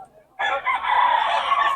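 A full stag rooster crows once loudly and up close, a single strained cock-a-doodle-doo lasting over a second after a short quiet moment.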